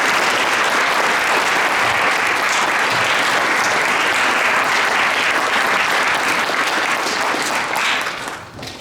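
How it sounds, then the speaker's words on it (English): A school soccer banquet audience claps in steady, dense applause for several seconds, fairly loud and close, then it thins out and fades at the end. "So if we could give a round of applause."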